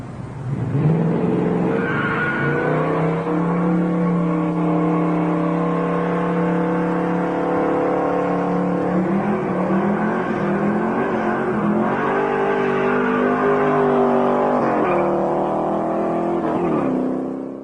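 A 1970 Dodge Challenger engine drones and rises in pitch as the car drives and accelerates, a sustained loud tonal whine with shifting revs.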